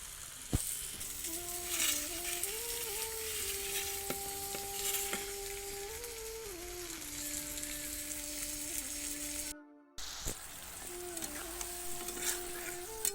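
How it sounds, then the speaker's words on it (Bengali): Fish frying in a pan, cooked until crisp, gives a steady close sizzle and crackle with faint stirring, continuous except for a brief dropout near the end, with music or tones running underneath. "দেখো আমার মাছটা ভাজা হয়ে গেছে আর আমি একটু কড়া করেই মাছটা ভেজে নিই"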